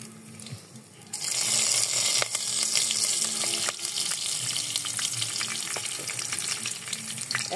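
Whole garam masala spices hitting hot mustard oil in a pan for chicken biryani, a sudden loud sizzle bursting in after a second and crackling steadily and close, with faint clicks and no voices.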